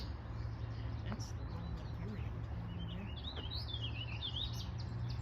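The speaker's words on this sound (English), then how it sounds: "Common yellow throat." A common yellowthroat, a small marsh warbler, sings in a marsh or swamp: a thin, high, warbling phrase rising and falling over steady low background noise, moderately distant, with no speech over it.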